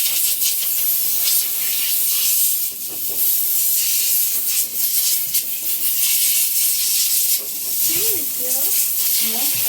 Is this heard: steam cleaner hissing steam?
yes